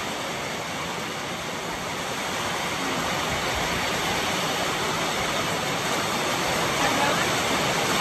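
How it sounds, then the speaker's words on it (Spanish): A heavy rain downpour pours down steadily and loudly, a dense, unbroken roar of water close by that continues throughout with no clear talk over it. "Está cayendo un diluvio ahorita."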